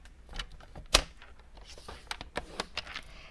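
Card stock pressed and scored along a scoring board gives a few soft taps and scrapes and one sharp, close click, in a quiet room with no talking.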